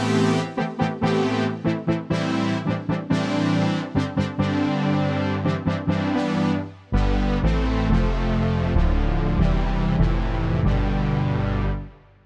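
Yamaha DX5 FM synthesizer playing split, panned-apart patches: a run of plucky, staccato notes gives way to loud, sustained layered chords that fade out at the end.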